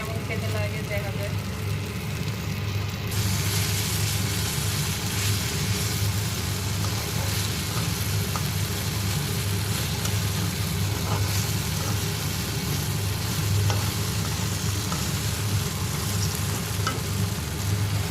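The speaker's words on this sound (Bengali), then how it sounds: "অল্প করে ভাজলে বেশি ভালো হয়" Steady sizzling of food frying in oil in a pan, a continuous crackling hiss throughout with a low background hum.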